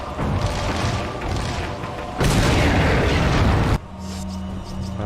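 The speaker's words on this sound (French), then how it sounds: "On va lui jeter une grenade à la gueule" A grenade blast in Resident Evil 4, a loud broad roaring boom lasting over a second that rises out of continuous game noise, then cuts off abruptly into quieter ambience.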